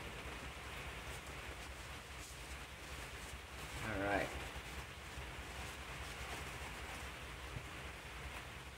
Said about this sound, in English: I apologize if this rain's really loud